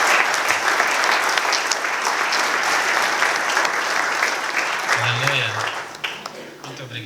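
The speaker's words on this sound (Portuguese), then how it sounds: "Vamos aplaudir mais uma vez o nome do Senhor Jesus." A church congregation claps vigorously and continuously in praise, a dense wash of applause with some voices mixed in, easing slightly toward the end.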